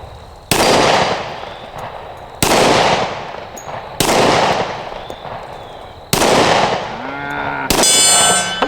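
Five loud, sharp pistol shots from a Smith and Wesson M&P 2.0 10mm, spaced roughly one to two seconds apart outdoors, each with a long ringing decay; a metallic clang of a hit steel target follows the fourth shot.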